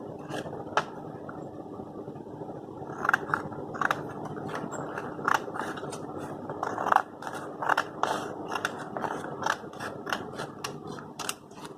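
Scissors snip through a strip of magazine paper about 9 to 10 centimetres long, giving a series of crisp, close cuts in irregular bursts that grow more frequent toward the end, with no talking.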